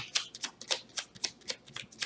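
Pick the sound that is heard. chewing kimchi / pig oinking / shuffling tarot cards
shuffling tarot cards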